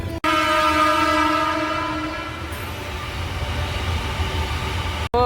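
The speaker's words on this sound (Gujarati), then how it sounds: "જો રેલગાડીએ જાય હળાબારની." A passing train on a railway, with a loud steady rumble and a sustained horn-like tone at the start that fades partway through, close and continuous with no talk.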